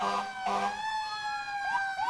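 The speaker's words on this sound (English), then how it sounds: "the sirens are going off over here" St. Lucie County Fire Department sirens wail nearby, a loud wavering electronic tone with short whoops and sweeping pitch changes.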